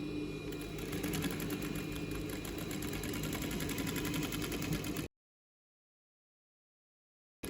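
A sewing machine stitches a facing onto a pocket entry with straight stitches, running as a steady rapid mechanical whir for about five seconds, close and loud, then falling silent before restarting briefly.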